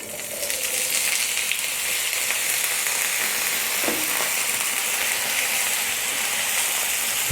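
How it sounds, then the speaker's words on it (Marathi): Small cut potato pieces fry in hot oil in a pan, giving a loud, steady, close crackling sizzle that runs the whole time, with a faint scrape partway through. "छोटे छोटे तुकडे केलेले बटाटे टाकून घ्यायचे"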